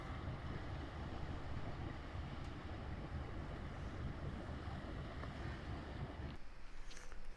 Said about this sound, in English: Bulgarian Navy ship just pulling out